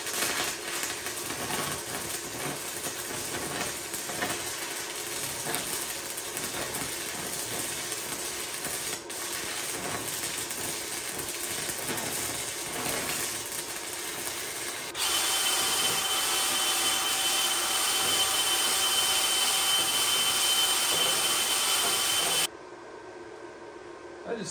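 An Amazon lift TIG welder run at 240V welds rusty metal, giving a steady, hissing electrical buzz that holds for about twenty seconds and shifts tone partway through before cutting off.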